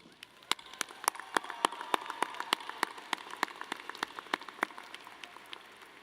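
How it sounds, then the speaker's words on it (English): Audience applause at a university education graduation ceremony, a steady, moderately loud wash of many hands clapping with sharp individual claps standing out, continuing throughout. "Let's give them a round of applause."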